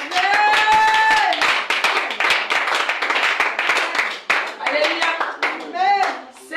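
An audience in church claps loudly and rhythmically, with sharp close hand claps mixed with cheering voices and whoops, some excited shouts rising above the steady beat.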